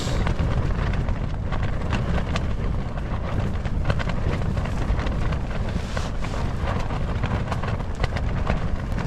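Strong, steady wind roars and buffets the microphone without pause on high ground on Dartmoor by a cairn, a dense low rumble with gusty crackle throughout.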